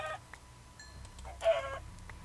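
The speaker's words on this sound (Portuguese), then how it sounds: "Tipo, tanta galinha." Minecraft chickens clucking in short, close bursts, one louder squawk in the middle, heard alone with no talk over them.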